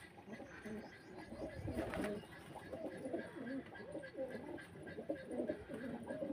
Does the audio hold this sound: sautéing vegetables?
no